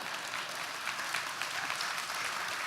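A graduation ceremony audience claps in a large hall, a steady, fairly distant patter of applause lasting a few seconds.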